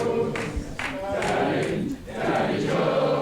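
A wrestling event crowd cheering and chanting loudly for hometown wrestler Danny Jones, sustained roar of many voices with rhythmic swells.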